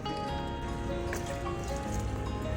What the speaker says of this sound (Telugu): ఇప్పుడు నీళ్ళు పోతాం మొక్కలు బతికిన వరకున